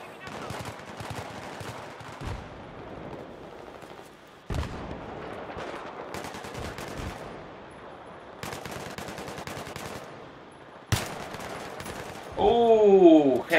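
Battlefield 3 sniper gunfire rings out during an assault on the Grand Bazaar map. Loud, sharp bursts of shots repeat with short gaps between them, and other in-game effects sound near the end.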